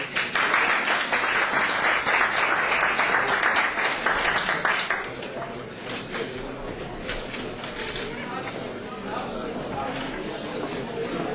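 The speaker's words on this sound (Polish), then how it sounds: "A teraz można wszystkim razem brawa." Applause during a city council session, dense clapping at first that thins after about five seconds into a lighter patter mixed with murmuring voices and room chatter.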